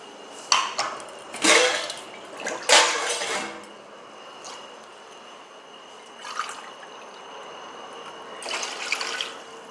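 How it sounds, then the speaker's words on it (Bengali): Water is poured from a measuring container into a pot of rice for homemade pulao, heard as several short splashing pours with quiet gaps, close by and moderately loud, with a faint kitchen hum behind. "একদম 5 কোটো জল দিয়ে দিলাম।"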